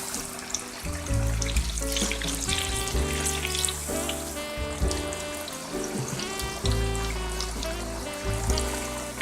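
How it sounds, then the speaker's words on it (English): Ghana chips fry in hot oil, a steady crackling sizzle that runs throughout at moderate loudness, with music playing underneath. "It doesn't take a long time to fry."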